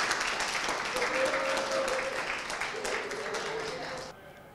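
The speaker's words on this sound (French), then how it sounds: "un tonnerre d'applaudissements pour votre lycée" A school crowd applauding at a televised quiz show event, a dense wash of clapping lasting about four seconds before cutting off, moderately loud with some voices mixed in.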